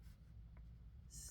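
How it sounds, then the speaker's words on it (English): Pen scratches softly on paper in a quiet room, with a faint low hum beneath and a brighter stroke near the end. "Let me write that down."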